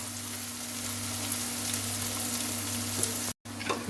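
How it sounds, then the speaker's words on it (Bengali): Onions frying in a pan, a steady close sizzle and hiss with a low mains hum beneath, briefly cut to silence near the end before the sizzle resumes. "পেঁয়াজ লাল লাল করে ভাজা হয়ে গেছে"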